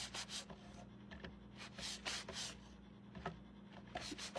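A brush rubs along the sides of a small dollar-store canvas in repeated soft, dry strokes, a faint scratchy swishing with a low steady hum underneath.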